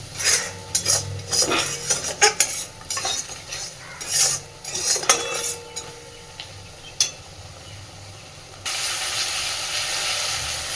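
Masala being fried down with prawns in a pan for a cauliflower-prawn curry, with a spatula scraping and clinking against the metal in irregular strokes over a soft sizzle, close and unaccompanied, the hiss rising steadily near the end.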